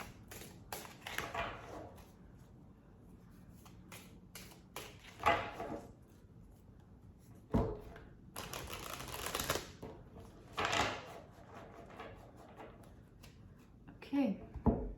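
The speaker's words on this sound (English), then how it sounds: "I just want to give it a really good shuffle first." A deck of tarot cards shuffled by hand in uneven, clattering bursts with pauses in between, fairly close, with brief snatches of a voice in the background.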